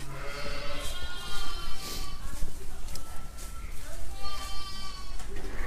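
Sheep bleat repeatedly at a farm during lambing season, several overlapping calls near and far over steady outdoor background noise.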